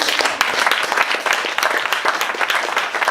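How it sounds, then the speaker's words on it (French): An audience at a junior business committee event applauds, dense hand-clapping filling the room at steady strength throughout. "on peut l'applaudir."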